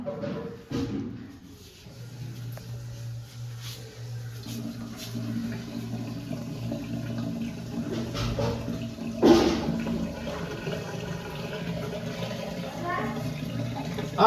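Water pours and runs steadily with a hollow, splashing flow that continues throughout, while someone talks intermittently over it.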